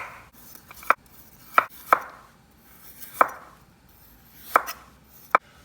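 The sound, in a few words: knife peeling the woody outer layer of a broccoli stem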